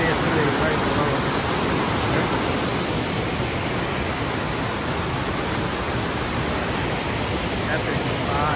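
A waterfall pours directly below a trail viewpoint at Caesars Head State Park, a loud, unbroken roar of rushing water filling the whole scene without pause.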